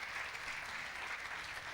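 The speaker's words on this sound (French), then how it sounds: "Je pense qu'on peut aussi les applaudir pour cette recherche" Steady applause from an audience fills the whole stretch, a dense, even clatter of many hands clapping without pause.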